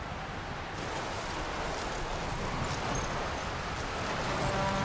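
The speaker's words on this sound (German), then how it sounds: "während der Wind hier bläst" Wind blowing through a windy outdoor area in the video game Tomb Raider, a faint, steady rushing hiss with soft gusting swells that carries on unbroken, with no voices over it.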